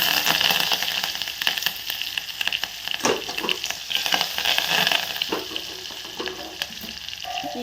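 Crushed garlic and curry leaves fry in hot oil for a tempering, giving a steady, close, loud sizzle with crackles and spatters throughout, occasionally stirred, with no talking.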